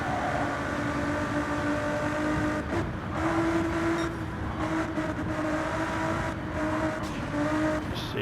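A race car engine in the WTCR racing video game drones steadily, its pitch rising and falling as the throttle is modulated, sustained and fairly loud with no talk over it.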